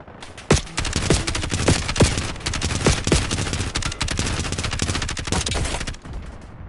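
Sustained automatic gunfire from the Call of Duty Black Ops 6 Warzone video game, with dense rapid bursts and several sharper, louder shots standing out across the stretch before it tapers off near the end.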